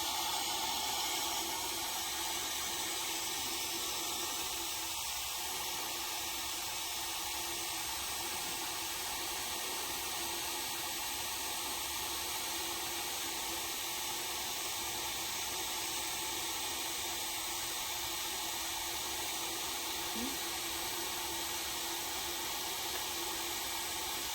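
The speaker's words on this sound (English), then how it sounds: "I'm going to dry it a little bit first using my hair dryer." A steady, even blowing whoosh of a hair dryer running continuously at a constant level, broadband and unbroken, with no voices.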